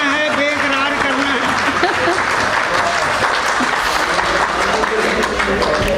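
Audience applause fills a mushaira poetry recital, dense and steady clapping throughout at close range, with voices and murmurs mixed underneath.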